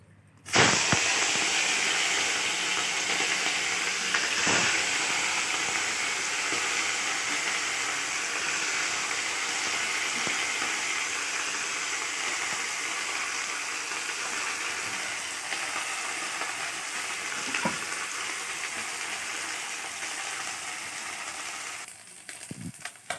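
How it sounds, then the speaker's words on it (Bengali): Small fish frying in hot oil in a wok make a loud, dense, continuous sizzle and hiss that starts abruptly, carries on evenly with a few faint knocks, then cuts off near the end. "এবার মাছটা ভেজে নেব"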